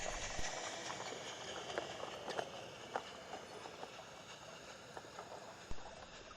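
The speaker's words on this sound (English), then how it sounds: "The train now coasts into Peckferton Station" A model train on the Peckforton Light Railway coasts into Peckforton Station beside a sawmill, its wheels ticking in a soft rhythmic clatter over rail joints, moderately close and steady with a few louder knocks.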